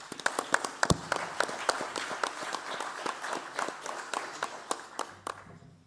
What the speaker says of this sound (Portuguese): Isso também para si uma salva de palmas.